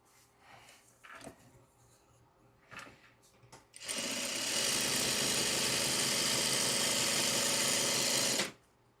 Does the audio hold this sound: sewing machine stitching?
yes